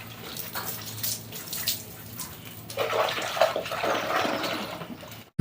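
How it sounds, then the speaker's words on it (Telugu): Soapy surf water splashes and sprays over a motorbike during a wash, a close hissing gush of water that pauses briefly and then surges again, ending in a sudden clatter. "బైక్ అన్ని వైపులా ఈ సర్ఫ్ వాటర్ అయితే మొత్తం అంతా కొడుతున్నానండి"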